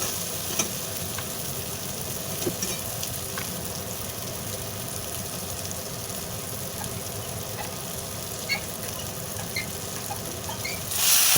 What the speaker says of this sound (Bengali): এগুলো ভালোভাবে আমি কষিয়ে নিচ্ছি।